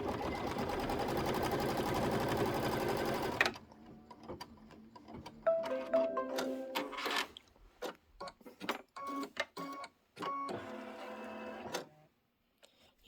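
An embroidery machine stitches a quarter-inch seam allowance, a dense continuous run at first, then stops and gives way to a series of irregular mechanical clicks, ticks and short stitching bursts, close and moderately loud.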